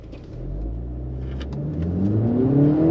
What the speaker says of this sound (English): I love the way this car picks up